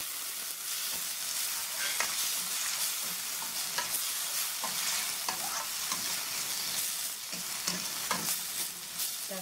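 Tomatoes fry in a pan for an Indian egg gravy, a steady broadband sizzle running throughout with scattered scraping stir clicks from a spoon, close and continuous with no voices.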